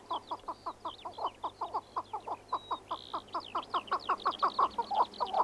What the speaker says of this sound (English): Chukka are birds from literally half a world away.